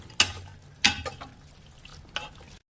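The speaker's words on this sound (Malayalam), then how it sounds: "ചിക്കൻ ഇട്ട ശേഷം നന്നായിട്ട് അത് ഇളക്കിക്കൊണ്ടിരിക്കുക." Chicken being stirred through masala in a pan while cooking majboos, with a few sharp spoon scrapes and soft sizzling spread over a couple of seconds, no talking.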